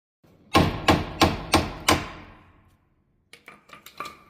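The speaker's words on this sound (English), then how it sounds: "Now we can give it a few hits with the hammer and it should go down." Steel hammer blows on a Kia Picanto tie rod end during a suspension repair: five loud, evenly spaced metallic strikes ringing close up, then a pause and a quicker cluster of lighter taps.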